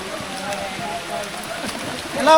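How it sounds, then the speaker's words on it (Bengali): Rain falls on the green slopes of Chandranath hill at Sitakunda, making a steady, even hiss throughout, with a brief tone rising near the end. "বৃষ্টি হইতেছে"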